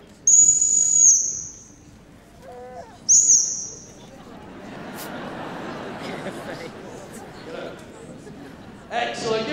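A gundog handler's whistle sounds in two sharp, piercing blasts during a gundog display at Crufts 2010, with an arena crowd murmuring in the background and a voice following.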